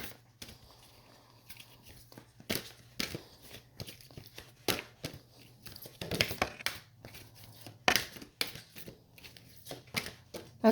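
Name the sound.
shuffling a deck of cards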